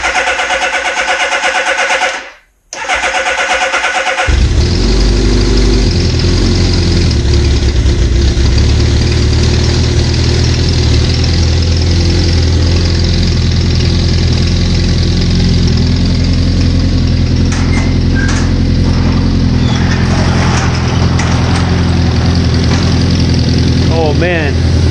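A 1981 Suzuki GS650GL motorcycle engine fires up after a carburetor rebuild and keeps running with a loud, steady low rumble close by, briefly interrupted by a silence near the start.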